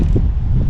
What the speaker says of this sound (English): Golly, it's windy today.